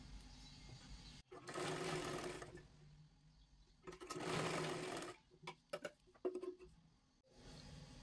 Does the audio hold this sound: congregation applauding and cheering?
no